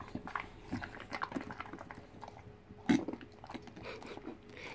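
A bulldog chews and gnaws on a piece of sausage, with close wet chewing and biting clicks in an irregular rhythm and one louder chomp or burp near the middle, amid faint room noise.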